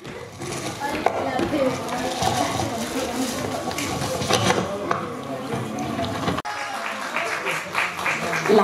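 Audience applause and cheering at a Nepali folk duet (lok dohori) music award ceremony, a dense continuous crowd clapping that runs throughout, with a loud voice over a PA system talking on top.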